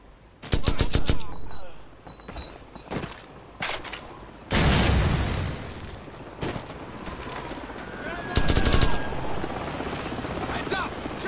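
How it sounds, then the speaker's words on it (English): A helicopter's rotor roar swells in amid bursts of gunfire and explosions, loud and chaotic, with voices calling out over the din, in the video game Call of Duty 4: Modern Warfare. "Heads up! Chopper's inbound!"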